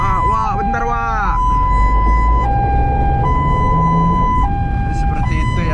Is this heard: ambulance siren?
yes